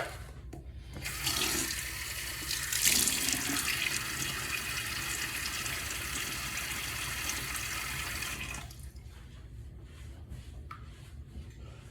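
Tap water runs steadily into a sink for about eight seconds while a face is wetted before a barbershop-style shave, starting and stopping abruptly with quiet room sound either side.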